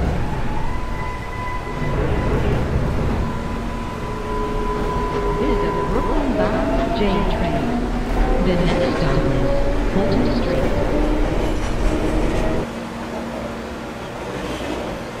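A Brooklyn-bound J subway train rumbles and screeches along the tracks, with rising and falling metallic squeals and a loud continuous roar that drops off near the end.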